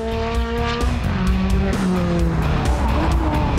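A Ferrari Challenge Stradale cornering hard at speed, its high-revving engine note sweeping down and up through gear changes with tire squeal layered over it, loud and close with no talk.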